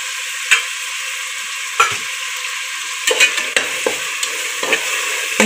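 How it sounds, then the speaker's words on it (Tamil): Ginger garlic paste frying in a pan, a steady sizzle broken by repeated scraping stirs of the spatula. No one speaks. "இஞ்சி பூண்டு நல்லா வதங்கட்டும்."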